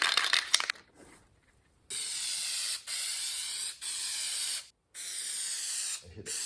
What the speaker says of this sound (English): So I'm using this Loctite MR5426 headliner adhesive.